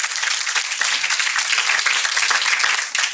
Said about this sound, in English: can we hear another round of applause for them?